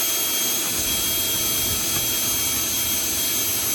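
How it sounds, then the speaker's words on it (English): A small drum sander working a wooden window frame, giving a continuous loud broadband whir that holds steady without pauses, close and alone with no talking. "I went out and got my little drum sander"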